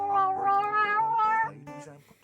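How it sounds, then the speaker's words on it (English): Cartoonish cat meow sound effect from the Phoenix Wright: Ace Attorney – Justice for All video game, a drawn-out, tonal meow followed by a second shorter one, clear and loud with no talking. "Such a great cat sound."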